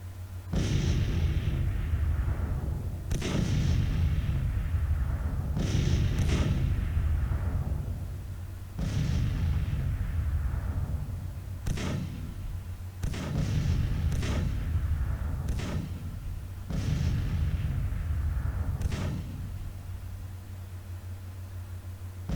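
Artillery bombardment in a Civil War strategy game: about a dozen booming cannon shots at irregular intervals, some in quick pairs, each with a rumbling decay, over a low steady hum.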